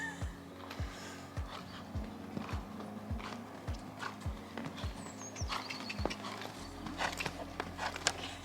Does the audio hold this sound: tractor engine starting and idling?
no